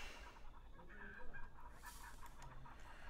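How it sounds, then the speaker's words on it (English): Chickens in The Sims Medieval game cluck softly in a medieval village setting, with intermittent faint bird calls over a low, steady background ambience and no speech. "The chickens are keeping me awake."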